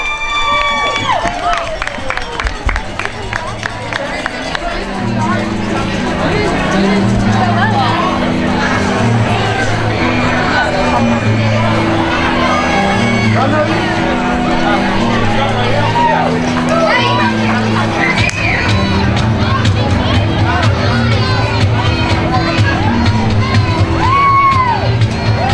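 A stadium or event crowd cheers and shouts for a football team's wide receiver group, sustained and loud throughout with whoops over steady low music or a PA bed.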